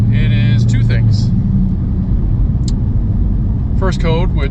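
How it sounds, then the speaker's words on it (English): Low-slung exhaust of a Coyote-swapped 2008 Mustang thumping over a speed bump, a steady deep rumble throughout with a brief scrape, while people talk over it inside the car. "Exhaust is really low. Stupid speed bumps."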